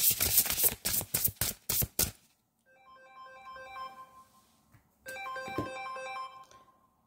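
A mobile phone ringtone goes off: someone talks briefly, then a melodic electronic tune of bright, repeated notes plays in two clear bursts with a short gap between them.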